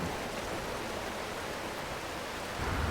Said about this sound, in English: Step out into the superheated storm.